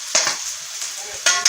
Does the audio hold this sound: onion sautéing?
yes